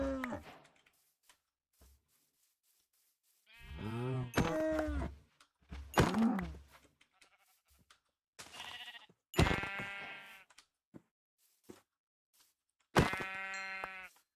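Sheep in the video game Minecraft bleat in short separate bursts, several distinct calls spaced by quiet gaps, fairly close and clear.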